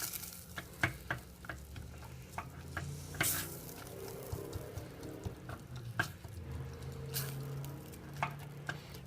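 Onions sizzle in melted butter in a pan for an Alfredo white sauce, a steady crackling hiss broken by irregular pops and occasional stirring clicks, close and fairly quiet with no talking.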